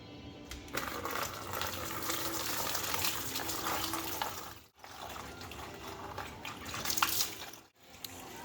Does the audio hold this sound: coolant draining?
yes